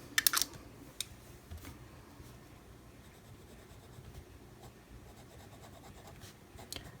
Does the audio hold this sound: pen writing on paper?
yes